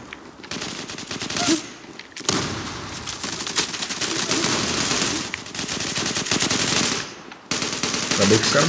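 Rapid automatic gunfire from the online shooter Zula, loud and sustained in dense bursts with brief pauses between volleys, no talk over it.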